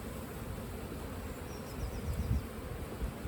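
Honeybees hum steadily around an open hive during colony inspection, a low continuous drone at moderate level with a few louder passes close by.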